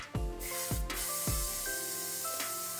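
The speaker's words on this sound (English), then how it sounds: "So I'm gonna use hairspray." Hairspray misted from an aerosol can onto eyebrows in three quick, close hissing bursts, each with a soft click at the start, over a steady background hum and faint tones.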